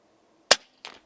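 A single sharp shot from an Air Arms S510XS Stealth Carbine .177 air rifle firing JSB pellets, a loud crisp crack followed by a fainter thud of the pellet striking downrange.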